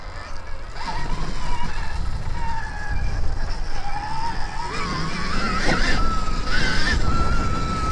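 Stark Varg electric dirt bike ridden steadily, its motor whine rising and shifting in pitch over a constant rumble of tyres and wind, loud and close throughout.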